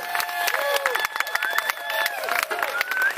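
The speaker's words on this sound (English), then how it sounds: "A round of applause for Vidal, please, for the excellent percuss" Live concert crowd claps and cheers for a percussionist, with sharp hand claps, shrill rising whistles and shouts close by in a lively burst.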